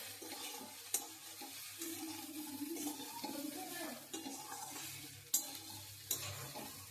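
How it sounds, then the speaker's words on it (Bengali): Potato pieces fry in a pan with turmeric while a utensil stirs them, giving close, continuous sizzling with scraping and occasional sharper knocks against the pan. No one speaks. "এবার ভালো করে একটু নাড়াচাড়া করে নেব, হালকা ভাজা ভাজা করে নেব"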